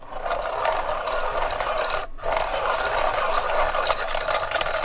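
A pencil turns in a sharpener with a steady grinding, ratcheting rasp that runs nearly continuously, broken by one brief pause, close and fairly loud.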